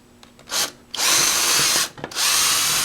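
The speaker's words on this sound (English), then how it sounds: "you're going to make pilot holes with a 1/8 drill bit" A power drill whirs loudly in two bursts while drilling 1/8-inch pilot holes in a splitboard, a short burst followed by a longer steady run, then spins up again after a brief pause.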